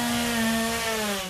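A chainsaw in a TV commercial runs at a high, steady whine with a sustained droning pitch, loud and close, sliding slightly lower toward the end, with no talking over it.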